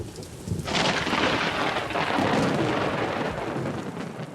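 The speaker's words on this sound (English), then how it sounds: "I've witnessed incredible storms and torrential downpours." A thunderstorm in Namibia's Central Highlands during the wet season breaks into a loud rumble of thunder over heavy torrential rain drumming on surfaces. The roar swells sharply after a quieter opening and stays dense and close.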